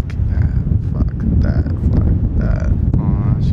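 Blustery outdoor wind buffets the microphone in loud, rumbling gusts throughout, with a person's voice speaking over it.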